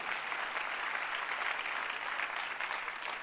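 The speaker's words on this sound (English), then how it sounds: "Can we clap hands for them?" A church conference congregation claps hands in sustained, even applause, moderately near and without voices on top.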